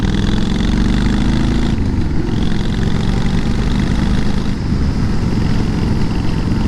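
A Harley-Davidson Sportster motorcycle engine runs continuously at a steady idle, a dense, loud, rumbling drone close to the listener with only slight shifts in tone and no talking.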